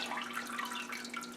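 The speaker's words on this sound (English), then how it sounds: "I'm going to go ahead and remove the grain bag. And I'm going to let it drain." Wort trickling out of a raised grain bag during oatmeal stout homebrewing, a continuous soft splashing drain with a low steady hum behind it.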